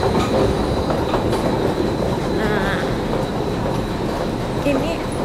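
A Singapore metro train running, with steady rumbling wheel noise, clicking rail joints and a brief squeal, loud and close throughout.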